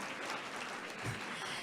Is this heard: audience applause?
yes